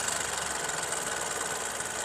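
A motorcycle engine idles steadily with no throttle while its battery charging voltage is checked with a multimeter. The rumble is close and constant throughout, with no talking.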